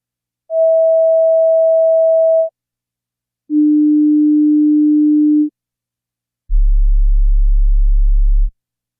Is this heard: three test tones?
yes